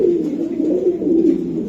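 Hammer silver Giribaz pigeons coo continuously up close, a low, throaty, rolling murmur with no voices over it.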